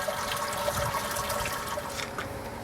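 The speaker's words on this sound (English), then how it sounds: "I'll be sparging with about 16 litres of water." About 16 litres of water pours and trickles through grain mash during a home beer brew, a steady wash of running liquid with no talk.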